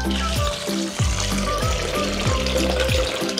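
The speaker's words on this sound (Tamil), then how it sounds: "இதில் வந்து 4 கப்பு தண்ணி ஊற்றிக்கணும்." Water pours into a blender jar holding soaked almonds, a steady broadband splash with light bubbling sweeps, close and fairly loud, with no talk.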